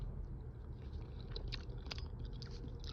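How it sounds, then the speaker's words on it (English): Someone chews sticky rice close to the mic, soft wet smacking and squishing bites repeating over a steady low hum, with no talking. "I'm gonna be chewing a little bit."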